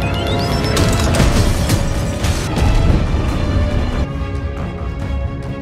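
A bomb going off in an action film scene, a loud dense crashing blast with rumbling debris and swelling dramatic score, dying down toward the end, without talk.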